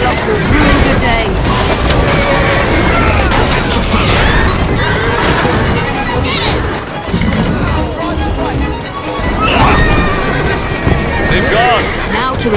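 Horse-drawn carriages race through a chase in Assassin's Creed Syndicate, with loud continuous hoofbeats, whinnies, rattling wheels and occasional crashes layered under dense game music and voices.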